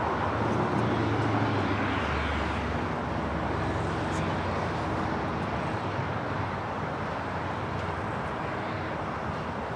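A Lufthansa Boeing 747 airliner arriving from Frankfurt at LAX produces a steady, broad jet roar that stays constant and moderately distant for the whole stretch, with no distinct peaks.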